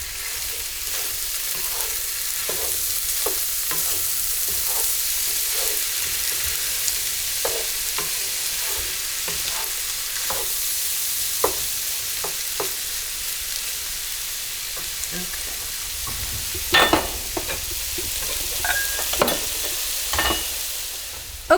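A kielbasa stir-fry sizzles steadily in a skillet while the pieces are tossed, with repeated scraping and clattering strokes and louder bursts of frying near the end, no voices.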